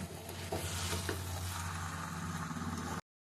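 Fish curry (fish pulusu) stirred in a pan over the heat, a close bubbling sizzle with soft scraping stirs, steady for three seconds, then ending abruptly in silence.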